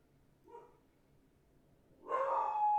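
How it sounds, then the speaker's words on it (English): A dog barks twice, a short faint bark followed after a pause by a louder, longer bark or yelp, against a quiet background. "Oh, there goes the dog. He's barking."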